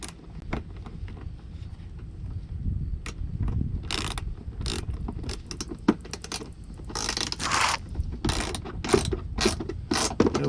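A socket ratchet clicks in quick, uneven bursts while tightening trailer hitch bolts on a 2018 Jeep Wrangler JL, close and fairly loud, with the scrape and clank of tools between strokes.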